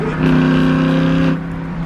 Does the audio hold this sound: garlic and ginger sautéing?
no